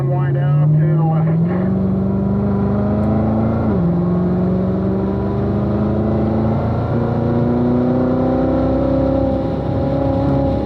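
Race car on a track braking, downshifting and then accelerating hard, the engine note stepping down with a short drop before climbing steadily in pitch as it pulls out of the corner, loud and close throughout.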